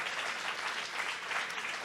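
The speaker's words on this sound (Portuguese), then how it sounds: "peço uma salva de palmas, por favor" Sustained applause from an audience at a book fair in São Paulo, honoring the food stands; dense, steady clapping without pauses, fairly distant and moderately loud throughout.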